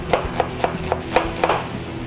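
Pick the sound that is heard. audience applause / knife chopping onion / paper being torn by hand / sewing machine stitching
knife chopping onion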